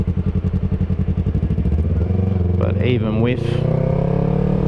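Yamaha R3 motorcycle fitted with a Two Brothers Racing S1R exhaust gives a loud, close, pulsing engine note that rises as it revs, while someone talks over it.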